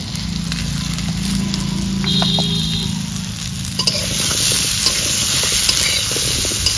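Slit green chilies go into hot oil with fried potatoes and taro for a village-style hilsa curry. A loud, dense sizzle and crackle runs throughout, with occasional stirring clicks over the constant frying hiss.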